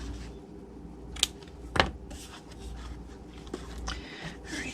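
Scissors trim paper for a Halloween treat box, a few quiet close snips with a couple of sharper cuts standing out against a soft background.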